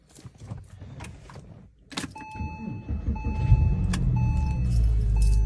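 A 2004 Porsche 911 4S with a manual transmission starts up. The first clicks and key jangles lead into a loud engine rumble that swells and then holds steady close by, with a high whine running over it.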